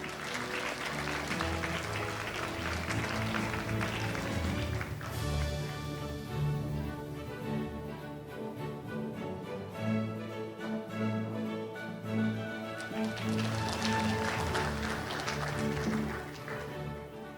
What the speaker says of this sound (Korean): 여러분 큰 박수로 맞아주시기 바랍니다